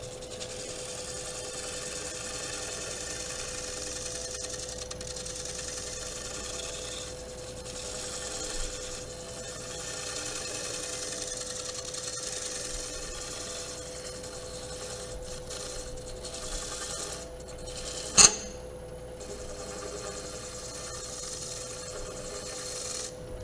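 Wood lathe turning a bowl blank during a live demonstration, a steady low rasping scrape of the tool on spinning wood with a constant motor hum, broken by one sharp louder knock near the end.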